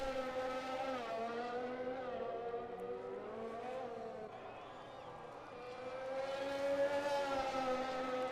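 A Formula 1 car in F1 2020 lapping the Singapore street circuit, its high-pitched engine whine rising and falling through gear changes and corners, dipping midway before climbing again, fairly faint.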